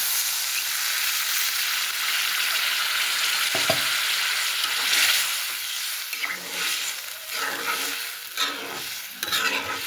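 Katla fish curry sizzles loudly in a pan as a little liquid is poured in, a dense steady crackle and hiss that flares and fluctuates with stirring, close up and without speech.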